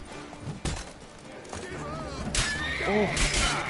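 A horse in The Witcher III lets out a whinnying neigh with wavering pitch, preceded by sharp thuds and game combat noise, close and moderately loud, with a voice talking underneath.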